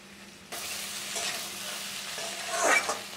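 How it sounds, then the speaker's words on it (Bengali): Eggplant and fish roe stirred together in a hot pan, a sizzling fry broken by scraping spatula strokes, with a louder burst of stirring near the end. "বেগুনের সাথে সমস্ত উপকরণ একসাথে নাড়াচাড়া করে দিচ্ছি। এক মিনিটের মতো ভেজে নিব।"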